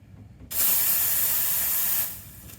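The steam wand of a La Spaziale Dream espresso machine is purged in a single loud, close, broadband hiss that starts abruptly, holds steady for about a second and a half, then cuts off.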